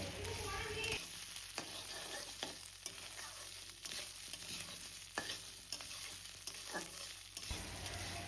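Potatoes fry with spices in a pan while being cooked for a Malabar spinach dish, giving a steady sizzle broken by repeated scraping stirs every second or so, close and fairly loud, with no talking.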